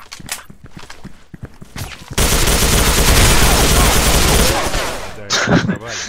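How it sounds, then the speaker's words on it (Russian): Rapid automatic gunfire in the online shooter Special Force 2 starts abruptly about two seconds in and keeps going as a loud, dense burst for over two seconds. Quieter clicks and game sounds come before it and after it. "Нифига там Санек стреляет"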